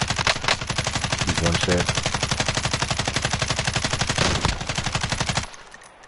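Rapid automatic gunfire in a video game, a dense machine-gun burst running steadily for about five seconds before cutting off, loud and close, with a voice briefly talking over it.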